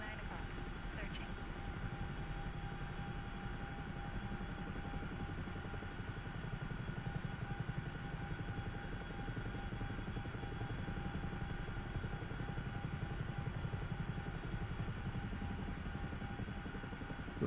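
A helicopter hums and throbs steadily from the cockpit in DCS flight-simulator play in VR, a constant droning engine and rotor sound at even loudness, with faint cockpit voice alerts over it.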